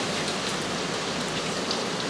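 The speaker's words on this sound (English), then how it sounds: "it started pouring raining right as I started your reading" Heavy pouring rain hisses steadily and evenly throughout, a dense broadband wash of drops close by with no voices.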